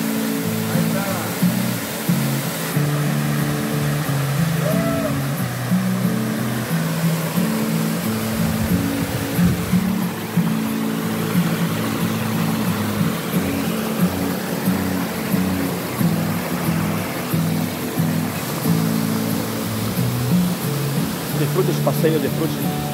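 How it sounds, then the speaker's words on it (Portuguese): Cachoeira do Cafundó in Ubajara National Park, Ceará, pours as a steady, loud waterfall roar, a broad continuous rush that lasts throughout while a voice speaks over it. "Cachoeira do Cafundó, com vocês,"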